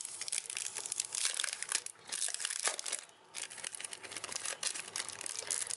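Plastic packaging around a Hobonichi shitajiki pencil board is pulled open, with continuous close crinkling and tearing and a short pause midway.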